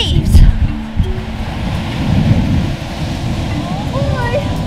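Windy beach with ocean waves crashing and rushing ashore, a loud continuous roar of surf and wind dominating throughout, with a brief higher sound near the end.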